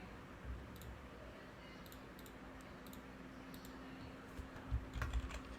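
Computer keyboard typing in a steady run of light clicks, with a few louder keystrokes near the end, close by with no talk.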